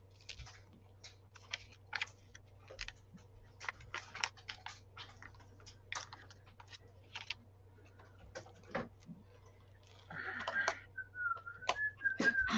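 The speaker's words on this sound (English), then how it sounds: "She whistles before she comes in." Near the end, a person whistles a short, sliding series of notes, preceded by scattered ticking and clicking noises over a steady low hum.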